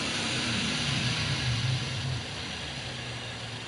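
Steady low engine idle of a car in the Gran Turismo 7 racing game, a constant hum with broadband hiss that drops slightly in level partway through, with no voices.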